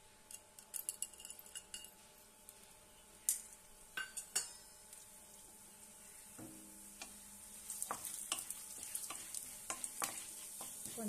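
Chana dal fries in about three spoons of hot oil for a cabbage chutney, a faint steady sizzle broken by light clicks and scrapes of a spoon stirring.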